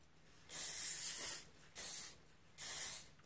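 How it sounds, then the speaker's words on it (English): Hairspray is sprayed onto hair in three close bursts of airy hiss, each about a second long with short pauses between. "I like to put a little bit of hairspray throughout my hair"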